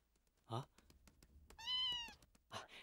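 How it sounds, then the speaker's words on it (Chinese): A wild cat meows at night in a kung fu film scene, with a short cry followed by a longer drawn-out meow and another brief call, close and clear over faint footsteps and quiet surroundings. "啊，是只野猫。"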